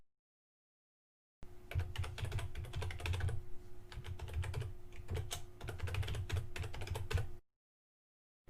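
Rapid keystrokes on a computer keyboard as an email address is typed into an account form, a close, continuous patter of clicks for about six seconds between silent stretches.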